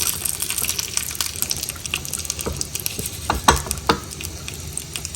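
Mustard seeds, asafoetida, chili and curry leaves crackle and sizzle in hot oil, a loud continuous frying hiss broken by sharp pops and spatters, with no voices.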